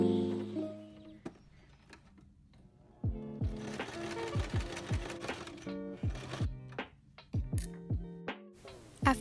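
A sewing machine stitches a small mini bag made from scrap denim, running in several short bursts of rapid, rhythmic needle clatter with brief pauses between, close and fairly loud with no talking.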